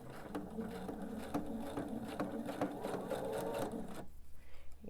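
Sewing machine stitching a quilt block seam at a slow, steady pace, a continuous close whirring hum with rapid needle pulses that stops near the end.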